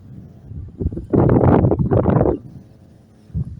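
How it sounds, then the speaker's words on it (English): Gusty wind buffets the microphone in loud, rumbling bursts, with a strong roaring gust in the middle and a shorter one near the end. "But it is very windy."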